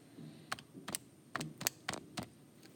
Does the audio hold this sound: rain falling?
no